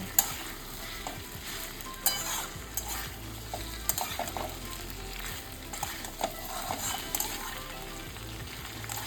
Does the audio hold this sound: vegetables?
yes